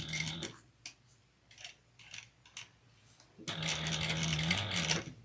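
A sewing machine stitches a purse, running in short bursts separated by pauses and then one long continuous run near the end, its motor buzzing with a rapid mechanical whir close by.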